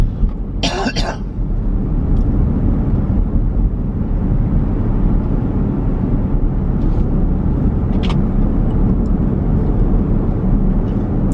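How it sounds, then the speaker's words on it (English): Steady roar of road traffic close by, a continuous low rumble of vehicles going past, with a brief sharp burst near the start. "I like the sound of the cars."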